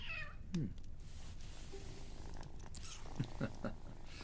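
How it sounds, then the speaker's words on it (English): A cat purring steadily at close range, with a few brief higher meow-like calls breaking through near the start and again toward the end. "Ah, Puss, I see you like having your ears tickled"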